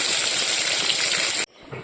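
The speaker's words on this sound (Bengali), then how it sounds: "বেগুন ভাজাটা আমি বসিয়ে দিয়েছি বেগুনটা এবার আমি ভেজে নেব" Loud, steady sizzling hiss of eggplant frying in hot oil, filling the clip before cutting off abruptly near the end, followed by quieter sputtering.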